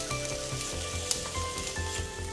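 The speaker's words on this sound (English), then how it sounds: "the onions now been cooking for about a minute. It's almost caramelized." Onions sizzling steadily in a pan as they caramelize, a soft continuous frying hiss that stays even throughout, with no talking.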